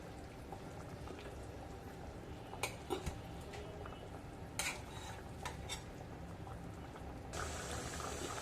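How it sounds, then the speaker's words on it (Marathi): Quiet, continuous bubbling of a fish curry boiling in a pot, with a few clinks of a spoon and a rise in hiss near the end. "मस्त कालवणाला उकळी आलेली आहे"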